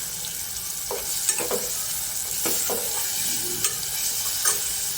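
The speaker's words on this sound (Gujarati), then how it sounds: "હવે આપણે થોડી સોફ્ટ થાય એટલે આપણે બટાકા નાખીશું." Potatoes tossed into pigeon peas frying in a pan for a Kathiyavadi aloo tuvar curry, stirred with a spoon: steady sizzling with repeated scraping strokes, close and clear.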